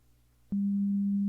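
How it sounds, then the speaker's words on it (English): A synthesized 200 hertz sine wave starts abruptly after a moment of near silence and holds as a loud, pure, steady hum until the end. "this should play a 200 hertz sine wave"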